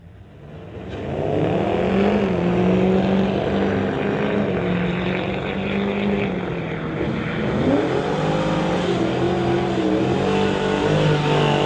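Two drag racing pickup trucks, one a Chevy Silverado, roar down the strip at a Mopac street legal event, a loud, steady engine drone that swells after the launch and holds near and powerful for the whole run.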